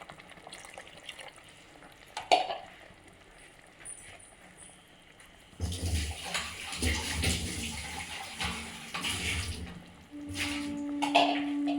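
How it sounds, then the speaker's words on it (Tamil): Water splashes and trickles in bursts into a cooking pot of mutton gravy, louder in the second half, with clinks and a faint tone near the end. "கொஞ்சம் தண்ணி விட்டுக்கலாம்"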